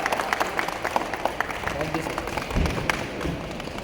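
Audience applause greeting Mr. Sunil Aggarwal, a Mercedes-Benz owner, as he is called up at a Milifestyle event. A steady bed of clapping runs throughout, with scattered thumps and a livelier swell near the end.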